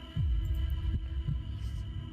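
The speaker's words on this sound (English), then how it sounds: "New heartbeat." A heartbeat sound effect in the video game Lucid9 pulses low and loud, a few deep throbbing thumps over a steady hum.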